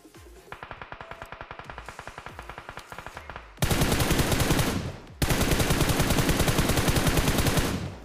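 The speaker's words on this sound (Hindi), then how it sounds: "यहाँ पे बाहर वाली साइड से काफ़ी मेरे को गन साउंड आ रहा था" Automatic gunfire in a battle royale video game, first a steady rapid rattle of evenly spaced shots, then two long, louder, denser bursts of continuous fire, close up with no talking.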